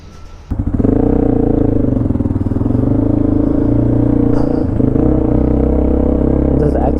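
A Hero XPulse 200 Rally motorcycle with an upgraded exhaust and air filter starts up and runs loud and close, a steady rumbling drone with slight throttle changes as the bike rides along.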